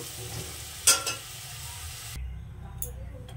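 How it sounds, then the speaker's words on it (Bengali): Potatoes frying in hot oil produce a steady, quiet sizzle, broken by a couple of sharp clinks from a utensil. The frying noise drops away abruptly partway through, leaving a low hum. "আমার আলুটা আমি সুন্দর করে ভেজে নিয়েছি।"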